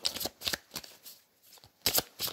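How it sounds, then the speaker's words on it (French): Épinal tarot cards being shuffled up close, several quick riffling bursts separated by short pauses, with no speech. "je vais procéder à un tirage du tarot d'Épinal"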